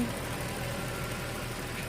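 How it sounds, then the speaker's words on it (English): A 2010 Mercedes C63 with its 6.2-liter V8 and no catalytic converters runs at a steady low idle, a quiet even rumble nearby with no talk over it. "The engine, I mean, it just screams."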